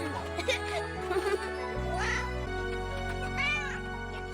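A cartoon kitten gives several high, bending meows in quick succession, loud and close over a sustained musical backing with a light tinkle.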